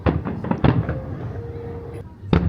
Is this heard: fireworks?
yes